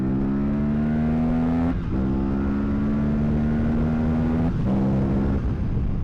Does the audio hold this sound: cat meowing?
no